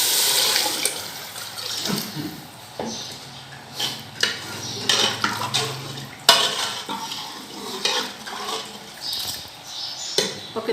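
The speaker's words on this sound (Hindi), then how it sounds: "मैं डालूँगी इसमें पानी।" Water poured into a pot of roasted black chickpeas on the stove, splashing and sloshing with clinks of the pot and utensils, loud and close, with no talk.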